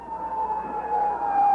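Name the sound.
ambulance siren arriving at the Hilton Hotel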